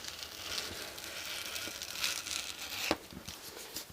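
Paper pattern pieces being cut apart with scissors and handled, faint close rustling and crinkling with a few soft snips and one sharper crunch near the end.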